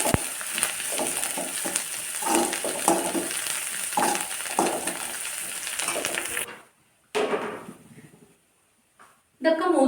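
Curry leaves and spices fry steadily in a pan for a curry, a continuous broadband sizzle with stirring scrapes under it. The sizzle stops abruptly partway through, leaving near-silence with brief bursts of noise.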